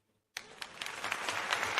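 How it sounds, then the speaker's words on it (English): After a moment of silence, applause from a show audience breaks out abruptly and builds into steady clapping that grows slightly louder over the remaining second and a half. "I love the applause"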